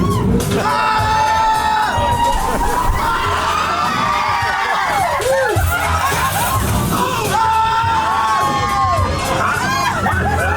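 Riders scream and cheer throughout a drop on the Guardians of the Galaxy Mission: Breakout ride at Disney California Adventure, a loud, continuous mass of excited yelling and whooping right up close.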